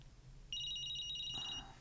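A mobile phone rings indoors with a bright, steady electronic trill that starts suddenly and holds for about a second. It sounds faint and clear over a quiet room with no talk.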